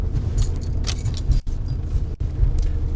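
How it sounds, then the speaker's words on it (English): A modern car's engine keeps running while it rolls in gear with no load, a steady low rumble with road noise inside the cabin, accompanied by a faint jingling of keys. "My car is still running."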